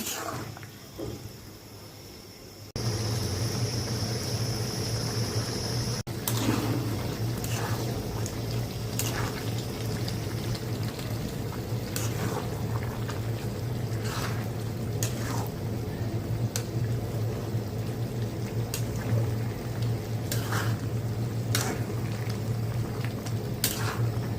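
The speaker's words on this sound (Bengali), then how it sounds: "মশলাটা কষানো হয়ে গেছে, আমি কচুটা ঢালা দিছি" Taro curry with fried spice paste simmering and bubbling in a pan, a steady close sizzle with scattered pops and drips running continuously after a quieter opening.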